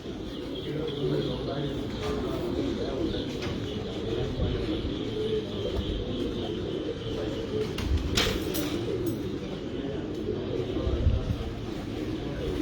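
Breeder pigeons coo softly in the background while someone talks over them throughout, with occasional small rustles and bumps nearby.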